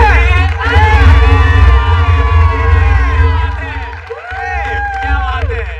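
A live comedy show audience cheers and claps loudly, with whoops and shouts rising over continuous applause, while a host's voice rings out above the crowd noise.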